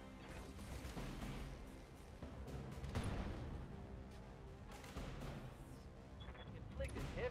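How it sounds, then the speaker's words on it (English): A full weapons salvo fires in a combat game, a dense, continuous barrage of blasts and booms with a sharp peak midway, heard close and loud over mechanical clatter. "firing a full salvo."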